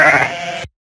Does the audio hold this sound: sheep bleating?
yes